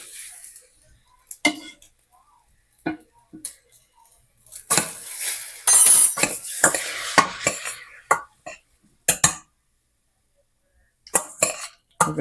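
A spoon scoops bolognese sauce from a pot, giving scattered metallic clinks and scrapes separated by silent gaps, close and fairly crisp, with one louder, denser stretch of stirring and scraping in the middle.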